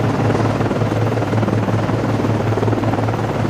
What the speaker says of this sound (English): Con, Flyco, launching aircraft. Con, Flyco, aircraft is in the air.